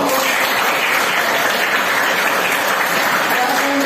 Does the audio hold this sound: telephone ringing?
no